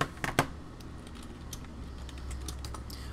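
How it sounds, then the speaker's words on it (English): Computer keyboard typing, a few quick sharp clicks up close at the start, then scattered lighter taps over a steady low hum. "Hold on, I was typing something."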